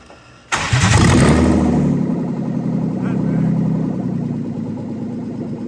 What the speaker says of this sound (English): don't like how high that's idling